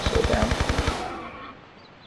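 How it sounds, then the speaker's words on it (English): An MP5 fires at a dinosaur in Tomb Raider 3, a rapid burst of about ten evenly spaced shots lasting a second before tailing off into a fading echo. "Get out the MP5 here. Shoot the dinosaur down."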